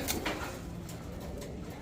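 Pigeons at a pigeon sale centre coo in soft, low, repeated murmurs against a faint background hum, quiet and brief with no clear speech.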